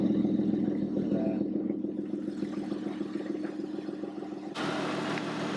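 A turbocharged BMW M50 six in an E36 idles steadily after a cold start, a low rhythmic rumble with a faint tick throughout, the note roughening and brightening near the end as the idle shifts.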